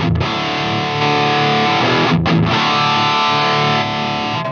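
Electric guitar played through a Marshall DSL 20 amp with a Boss Blues Driver pedal in the effects loop, loud and heavily distorted, sustained chords with one brief cut, over an audible background hum.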